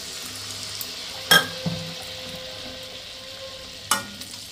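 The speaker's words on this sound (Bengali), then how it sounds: "এবার আমি আরেকটা আপনাদের দিয়ে তেলে ছেড়ে দেখিয়ে দিই।" Malpua batter dropped into hot oil gives a faint, low sizzling hiss, broken by two sharper metallic clinks of a utensil against the pan, with quiet pauses between.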